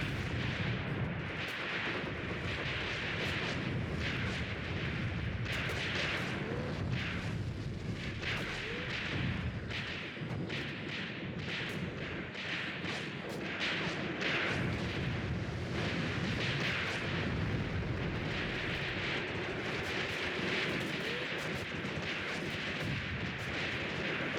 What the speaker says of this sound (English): It looks like you got hit by a mortar.